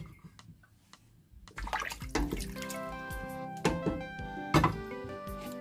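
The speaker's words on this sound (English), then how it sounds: "Add water. Enough water to cook the cow skin." Water pours into a cooking pot holding cow skin, a sloshing, splashing stream with clinking of the pot, growing fuller and louder partway through, in a home kitchen making Nigerian ogbono soup.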